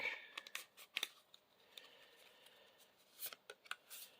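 Faint, close papery riffling and soft snaps of playing cards being shuffled, in irregular quick bursts.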